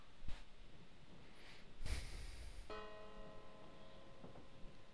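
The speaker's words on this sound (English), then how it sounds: "Just heard the gong." In The Invisible Hours, a single gong strikes partway through and hangs in a long, ringing, slowly fading tone over quiet background ambience.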